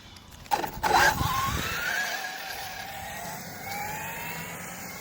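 A HoBao Hyper MT Plus 2 RC monster truck on a speed run, its electric motor whine rising in pitch as it accelerates, then sweeping away and fading into the distance over outdoor ambience.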